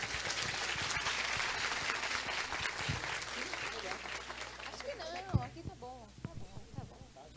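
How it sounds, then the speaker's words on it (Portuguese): Audience applause greeting a speaker at a symposium, moderate clapping that thins out as a voice begins speaking over its tail. "Eu gostaria que vocês também recebessem ela com uma salva de palmas"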